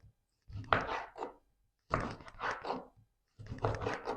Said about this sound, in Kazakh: Апельсинді де осылай турап алдық